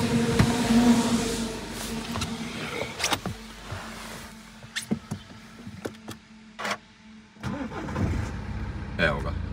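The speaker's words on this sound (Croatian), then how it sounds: "Sad ću vam pokazati kako auto radi." A BMW 3 Series diesel car engine starts and settles into a steady, low idle, heard close with a person talking over it.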